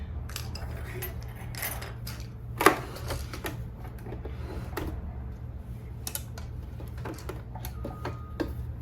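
A sewing machine stitches a seam at a 5/8-inch seam allowance while a McCall's 7976 misses' top is sewn. A steady low motor hum runs throughout, with scattered light mechanical clicks and one sharper knock early on.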